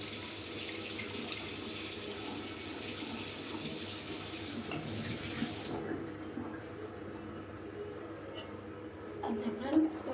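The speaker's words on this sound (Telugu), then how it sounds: "ఇందులో కొంచెం మనకి ఎన్ని నీళ్ళు కావాలో అన్ని నీళ్ళు పోసుకోవాలా" Water pours steadily into a pot of fish curry, a continuous running splash that changes tone toward the end, while a person talks over it.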